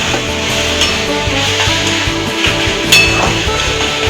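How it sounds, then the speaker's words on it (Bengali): Red spinach is stirred with fried sesame seeds in a pan, giving loud, continuous scraping and rubbing with a faint sizzle underneath and one sharper knock near the end. "এইভাবে তিলটা মিশিয়ে দিতে হবে।"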